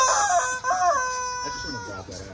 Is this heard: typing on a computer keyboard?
no